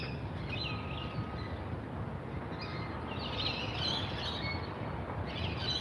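Parrots call in a park in Williamstown, Victoria, their scattered chirps and squawks rising over a constant outdoor background rumble.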